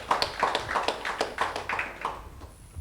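Church congregation clapping in brisk, fairly regular claps for several seconds at a sermon gathering; moderate level, steady without swelling, then tapering slightly at the end.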